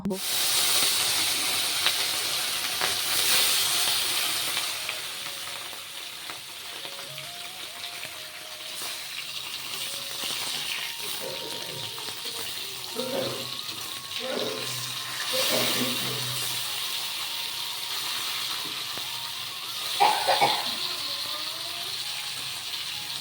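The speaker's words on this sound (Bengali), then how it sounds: "মাছটা এখন ভেজে নেব" Fish rubbed with turmeric and salt fries in hot oil with a continuous hissing, steamy sizzle, close and steady, with a few brief utensil knocks partway through.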